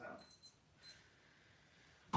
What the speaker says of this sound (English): It's the alarm, boys.